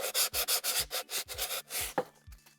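Hand sanding across a wooden surface, a close rhythmic series of rough scraping strokes, about a dozen back-and-forth passes in quick succession, with no voices.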